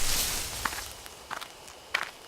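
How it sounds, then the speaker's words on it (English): Footsteps crunch through bushes in a dark forest in the Death Mark horror video game: a few soft, separate steps over a faint hiss, with no talking. "There are footsteps close by, from the bushes."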